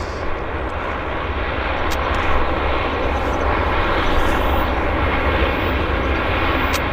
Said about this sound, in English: This is probably what you're hearing is the Dash 8